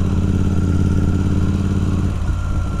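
A Royal Enfield Continental GT 650 motorcycle engine runs steadily with a deep, throaty exhaust rumble, close and loud, easing off slightly near the end.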